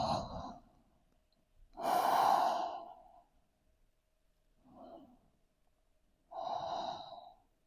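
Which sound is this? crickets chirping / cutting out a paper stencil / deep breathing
deep breathing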